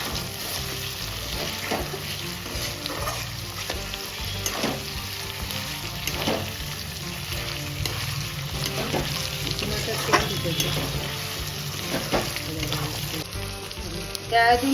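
Unmarinated chicken pieces fry in a pan for a coconut murgh pulao, a close, even sizzle with recurring stirring scrapes and small crackles throughout, steady in level, without talking.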